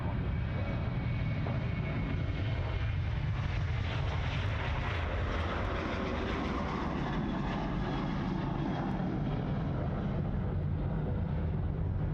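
An airliner lands on runway 34 left at Sydney Airport, its broad engine roar steady and continuous at a moderate distance for the whole stretch, with no voices over it.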